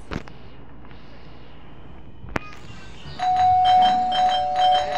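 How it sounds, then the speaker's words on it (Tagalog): A doorbell chimes indoors, ringing out in a sustained, tonal ding-dong after a couple of sharp knocks or clicks; fairly loud and with no talking. "Who's that stupid bell again?"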